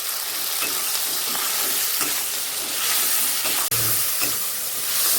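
Tomato and onion fry in a pan for a chicken giblet dish, giving a loud, continuous close-up sizzle with a few soft stirring scrapes and no talk.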